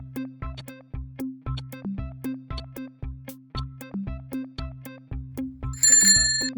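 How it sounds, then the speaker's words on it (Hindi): Electronic doorbell chime playing a quick repeating ding-dong melody, clear and close, with a brief burst of brighter noise near the end. "डोरबेल"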